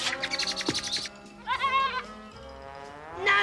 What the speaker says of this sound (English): The billy goat's eating it for his dinner.